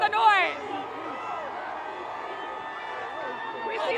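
A big crowd cheering and whooping at the Golden State Warriors victory parade, a sustained roar of distant voices with a louder burst at the start and another swell near the end.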